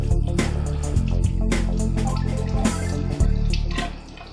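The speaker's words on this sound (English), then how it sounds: "I'll rinse my hands while you do that" Steady running tap water splashes over hands being rinsed in a home kitchen while frying chicken, a continuous close wash with small drips and bumps throughout.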